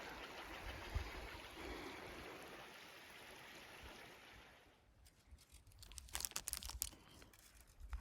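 Ward Creek on the Tahoe Rim Trail flows with a soft, steady rushing for about five seconds, then gives way to closer, irregular crinkling and splashy handling sounds near the water.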